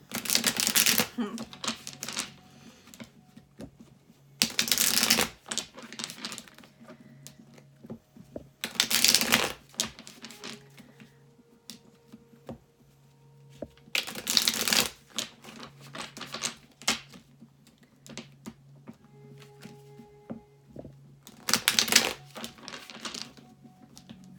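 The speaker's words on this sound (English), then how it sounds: "We're going to do a quick shuffle, or shuffles." Cards are shuffled in quick riffling bursts, five separate rounds spaced a few seconds apart, with quiet handling noises between them.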